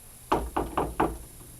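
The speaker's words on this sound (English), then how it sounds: "I hear a knock on the door." Knocking on a door at a literary reading event: four firm, evenly spaced knocks in quick succession, close and clear with no voice over them.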